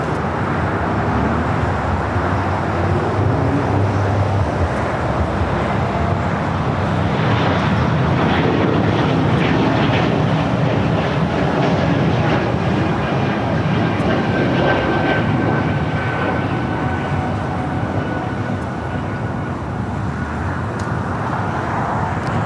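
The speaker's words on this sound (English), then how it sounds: "E2 rolling down the 25 right." Embraer E2 jet rolling down runway 25 right at LAX, a loud sustained engine roar with broadband rushing noise that swells and then holds steady, heard from a distance across the airfield.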